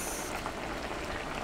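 A pot of kimchi Spam stew bubbles at a steady boil, a dense, close, continuous simmering and popping with no voices.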